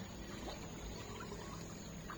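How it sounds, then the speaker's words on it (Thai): Clear river water rushing over rows of rocks on a rafting stretch in Nakhon Nayok, heard as a constant broadband wash of flowing water without pauses. "น้ำไหลลงไปนะคะ"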